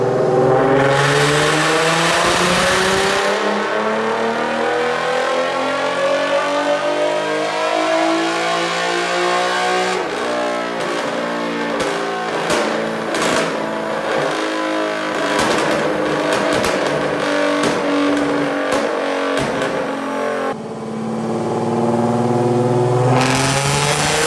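A loud Infiniti Q50 3.7 exhaust with resonated test pipes revs repeatedly, rising and falling in pitch with a raspy, resonant growl, sharp bursts in the middle, and no talking.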